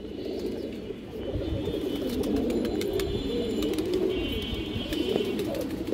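Two large pigeons coo repeatedly at close range in low, rolling bursts, with faint chirps and clicks in the background and no speech.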